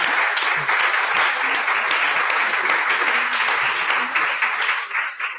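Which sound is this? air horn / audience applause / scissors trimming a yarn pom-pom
audience applause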